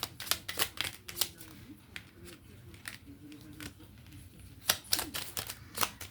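Tarot-style cards are shuffled by hand for a card reading, giving a loose run of crisp, papery clicks and riffles up close. The bursts come in quick clusters separated by short pauses, with no speech.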